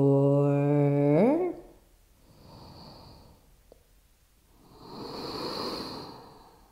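Two slow, deep breaths from an Ashtanga yoga class follow the fading end of a sung tone, each a long, airy, resonant rush with the exhale louder, close and unaccompanied by talk.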